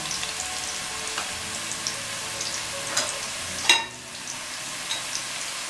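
Curry sizzles in a pan while a fish stew is started, a steady crackling fry with scattered pops and one sharper clatter midway, close and moderately loud with no voices.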